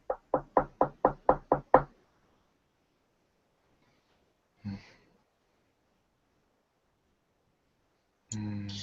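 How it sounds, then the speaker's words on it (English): Seven quick, sharp knocks on a door, close and loud, followed by silence, a faint movement and then a voice starting to speak. "Knock again."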